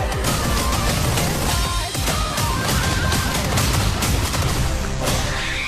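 A dense barrage of explosive crashes and booms from the bomb-filled ending of a Beat Saber map, a continuous loud stream of overlapping impacts with no pauses.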